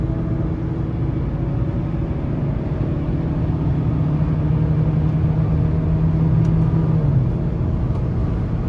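A 2018 Buick Encore Sport Touring with the 1.4T engine accelerating under throttle from inside the cabin, a steady low engine drone that rises in pitch, then eases off.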